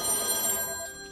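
A telephone bell rings close and loud in a bright, metallic trill, then stops and leaves a fading ring.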